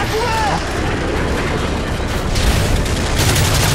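Dense gunfire and explosive booms from the Modern Warfare video game roar continuously at close range, with a voice partly audible beneath the din.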